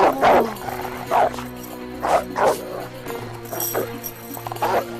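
A dog barks and yips in short bursts, about five or six loud nearby barks spaced irregularly, with a little whimpering between them.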